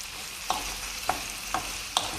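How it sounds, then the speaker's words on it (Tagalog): Spaghetti with cherry tomatoes is stirred in a hot pan with a low sizzle underneath. Four distinct scraping clacks of the utensil fall at a slightly uneven rhythm, close up and with no talking. "So, halu-haluin lang natin siya."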